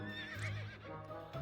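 A horse in a video game neighs and whinnies with a high, shaky call, a few hoof clip-clops beneath it, close and clear with no talking.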